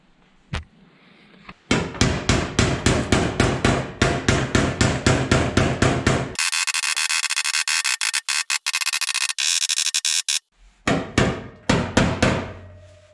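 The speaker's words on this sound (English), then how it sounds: "First thing I'm gonna do is straighten out some of those" Dents in a rusty Land Rover Discovery 1 body panel are hammered out with a rapid run of sharp, close metallic blows. A harsh continuous burst of noise follows, then another quick series of strikes.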